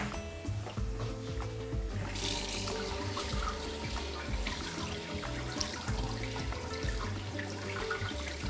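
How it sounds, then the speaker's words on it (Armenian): One cup of jasmine rice rinsed under a running kitchen tap, a steady rushing splash of water with clinks and knocks from handling, continuous and close with no talk. "հոսող ջրի տակ լվանում ենք"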